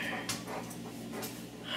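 A dog pants quickly and softly, a rapid rhythm of short breaths close by and fairly quiet, lasting under two seconds.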